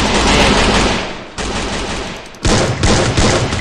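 Sustained automatic gunfire from the video game Free Fire, loud and dense bursts with two abrupt cuts where new volleys start, rapid continuous shots filling the clip without talk.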